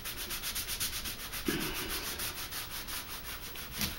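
Close rhythmic scrubbing of a sponge rubbed hard over a surface to work paint into a faux stone finish, repeated quick strokes forming a steady rasping pulse.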